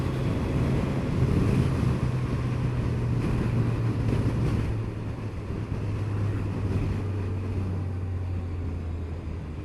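A 2014 Kawasaki Z1000SX motorcycle with 23,000 miles cruises along, its engine a steady low drone under heavy wind roar, the pitch easing slightly lower partway through.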